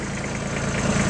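A Kubota B7500 compact tractor engine runs at raised RPM with a tiller attached, a steady, close, even mechanical drone with a low throbbing pulse and no talk.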